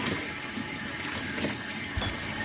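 Water running and splashing over thin metal, a rustic-sounding sound effect made to match hands being rinsed, steady close trickle with a few brief splashes and no talk.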